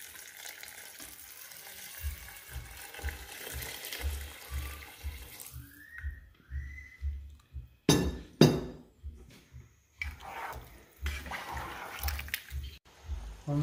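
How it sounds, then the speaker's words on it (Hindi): Four cups of water go into a pan of noodle seasoning: a steady pouring splash runs through most of the stretch, with glassy clinks and a rhythmic low thumping underneath, and no talking. "4 कप पानी के डाल दें इसमें।"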